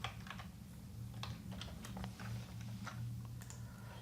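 Keys tapped on a computer keyboard in a quick, uneven run of soft clicks, close and fairly quiet over a steady low hum, with no talking.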